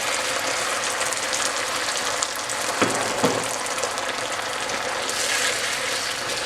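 Red Thai curry frying in a pan with coconut milk poured in, a steady close sizzle with a couple of soft clunks of a utensil against the pan.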